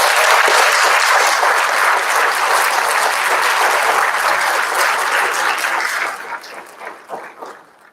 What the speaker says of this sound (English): please join one more round of applause for all these amazing students